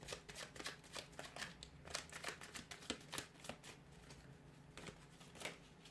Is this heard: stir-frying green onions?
no